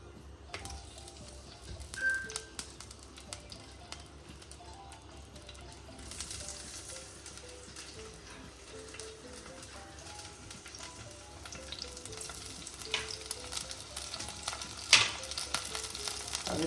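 About 350 g of ivy gourd (veloori) frying in 2.5 tablespoons of oil in a pan, a soft, continuous sizzle with a few faint clinks and stirring noises, growing slightly louder toward the end, with no talking.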